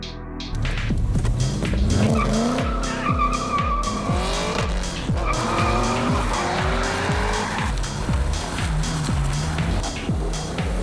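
A car driving with engine drone and repeated tire squeals, loud and continuous, as if taking corners quickly, with no talk over it.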